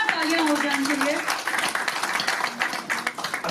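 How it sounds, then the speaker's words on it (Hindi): Applause from an audience at a clinic launch event with a celebrity chief guest, dense clapping that thins toward the end, with a voice speaking over it at the start. "एक बार जोरदार तालियां हो जाए उनके लिए।"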